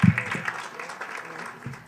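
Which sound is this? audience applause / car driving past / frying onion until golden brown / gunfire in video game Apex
audience applause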